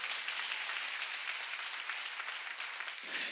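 A church congregation at an outdoor mountain revival meeting claps in dense, sustained applause throughout, with the clapping easing slightly near the end.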